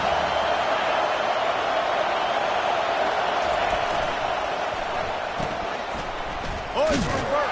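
A stadium crowd at a football game roars in a steady, dense wash of cheering and noise that fills the whole stretch, with a commentator's voice running over it and a brief louder swell near the end.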